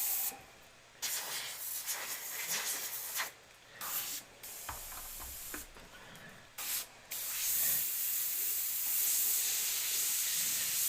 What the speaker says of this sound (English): this brush is not spraying that well right now